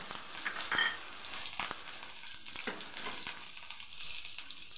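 Ginger garlic paste sizzles in hot oil in a pan, with cumin seeds and bay leaves, a steady crackling fry broken by soft stirring scrapes and occasional pops, fairly close and quiet.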